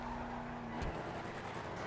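A Bravado Sabre muscle car in Benny's custom trim slides around in a video game, its engine droning steadily with a brief tire squeal as the car skids, heard alone without talk.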